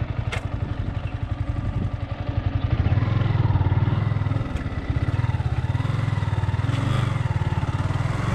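A motorcycle on a solo ride through the Valparai hills throbs steadily at close range, its engine note rising and holding as it pulls along, with no talk over it.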